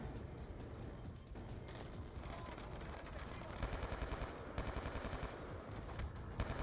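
Rapid gunfire in the Wii U shooter Clerium, loud repeated bursts of shots packed closely together over dense game noise, growing more rhythmic toward the end.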